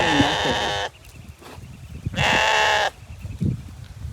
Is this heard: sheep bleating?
yes